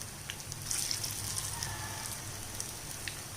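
Moong dal pakoda frying in hot oil in a pan gives a faint, even crackle and sizzle, like light rain, with small pops scattered throughout.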